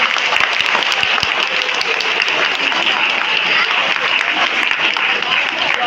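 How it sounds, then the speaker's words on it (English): Loud, dense clapping from a school audience at an Independence Day event, a continuous close wash of many hands with some crisp claps standing out early on, filling the whole span with no voice over it. "Give a clap for yellow house."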